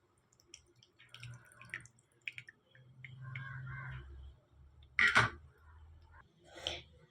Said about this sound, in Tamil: ஃபில்டர் வச்சு வடிகட்டிக்குவோம்.